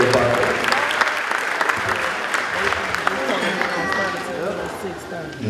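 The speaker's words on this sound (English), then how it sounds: "Let's give another round of applause" A crowd applauds steadily at an 8th grade graduation ceremony, a dense wash of clapping with a few voices and cheers mixed in, tapering slightly toward the end.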